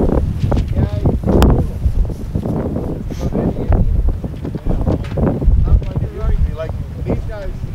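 Strong gusty wind buffets the microphone at an outdoor shooting range set up for 200-yard shots, a loud rumbling roar that surges and dips continuously, with someone talking over it.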